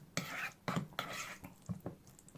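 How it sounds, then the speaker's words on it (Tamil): Avocado sandwich filling being stirred in a bowl, a spoon clinking and scraping against the sides in several short, close strokes, with brief quiet pauses between them. "இப்போ இதில் நல்லா மிக்ஸ் பண்ணி விட்டுருங்க."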